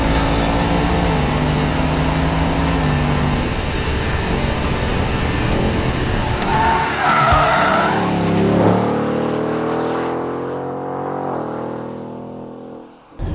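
A 2022 Ford Mustang GT California Special convertible drives hard, its engine roaring loud and steady with rising and falling revs, brief tire squeal, then easing off toward the end.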